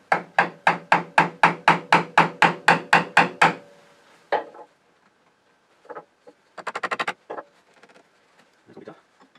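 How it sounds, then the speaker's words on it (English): A chisel is hammered into a taped, glued woodturning joint with a rapid run of about a dozen sharp, evenly spaced taps, followed by scattered lighter knocks and a quick clattering burst after a pause. "so I'm going to pop a chisel in there"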